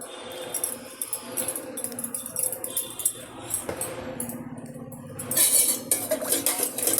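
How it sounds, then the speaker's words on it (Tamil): Buttermilk being stirred with turmeric and asafoetida powder, a spoon clinking and scraping repeatedly against a metal vessel, close and steady, with a louder flurry of stirring near the end. "மஞ்சப்பொடி போட்டு நல்லா கலக்கிக்கணும்"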